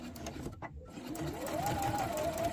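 A sewing machine running a short back stitch on fabric, a close steady whirring motor under quiet talk, with a brief pause near the start before the stitching picks up and continues.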